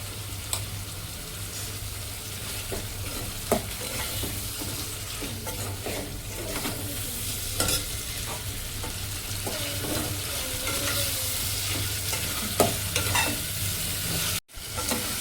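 Mutton and ridge gourd fry in a pan with a continuous, fairly loud sizzle and crackle, broken by occasional stirring scrapes and a brief dropout near the end.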